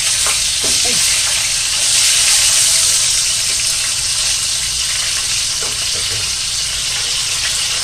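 Food sizzles and crackles steadily in hot oil, a dense hiss throughout with occasional stirring and clinking sounds, close by and fairly loud.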